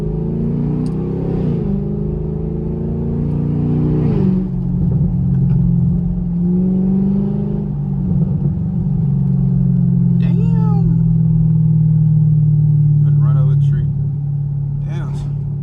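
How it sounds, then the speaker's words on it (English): Chevrolet Camaro SS V8 engine rumbling and revving in a series of deep throaty pulls, close and loud, while people talk over it. "That's that motherfucker Camaro."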